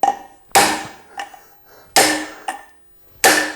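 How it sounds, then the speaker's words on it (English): A hammer strikes metal engine valve retainers and valves from a Hemi or wedge cylinder head, three loud sharp ringing blows with quieter clinks and taps between them, close up and without speech. "you can absolutely get these things apart with a hammer"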